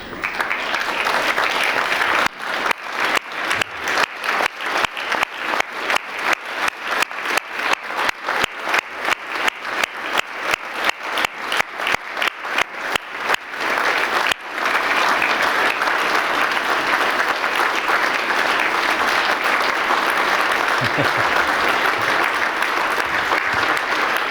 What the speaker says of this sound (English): let's give all your family and all your supporters a very big round of applause